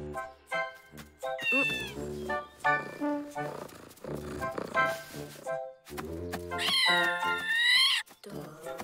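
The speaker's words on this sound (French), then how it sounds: "Mais un chat, c'est trop naze." A cartoon cat meows repeatedly in varied, drawn-out pitched cries, some rising into high whining wails, close and prominent with short gaps between calls.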